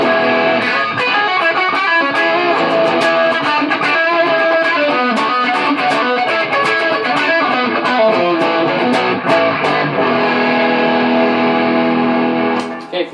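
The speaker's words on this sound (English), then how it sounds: "it's more of an overdrive than a distortion" A guitar played through an Orange Peel overdrive pedal with its filter knob at maximum, crunchy sustained chords and picked notes ringing continuously at a loud, steady level.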